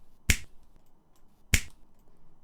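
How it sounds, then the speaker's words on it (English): Two crisp finger snaps about a second and a quarter apart, close and clean over faint room hiss, with no talking. "you want to do 2 snaps"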